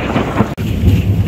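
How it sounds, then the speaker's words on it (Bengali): Loud, close thunder rolls during a heavy thunderstorm, a dense low rumble with rain hiss, broken by a split-second dropout before rumbling on. "এত বিদ্যুৎ চমকাচ্ছে, বাজ পড়ছে"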